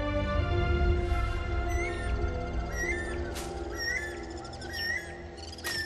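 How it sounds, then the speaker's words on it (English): Bird calls in the Mortal Kombat 1 video game, a few short chirping cries rising over a steady musical and ambient game soundtrack, with no talking. "I like that bird."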